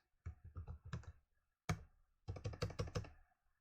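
Fingers type on an English-layout computer keyboard while a shell script is written. Close, quiet clusters of rapid key clicks come in three bursts separated by short pauses.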